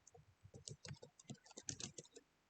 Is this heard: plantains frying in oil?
no